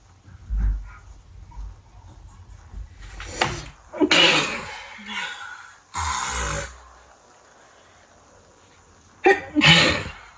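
A few loud, sharp sneezes burst out one after another, separated by quiet pauses, close up.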